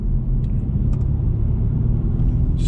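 A 2021 BMW 420i accelerating out of a 30 zone: steady, close engine and road rumble heard from inside the cabin, with no voices over it.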